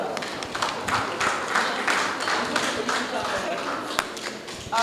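An audience at a World Mental Health Day school event claps for a student, a moderate patter of hand claps running steadily throughout, with a voice audible over it.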